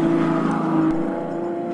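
A 2012 Ferrari FF's engine hums at low revs, a steady, slightly droning mechanical note without much rise or fall over a couple of seconds.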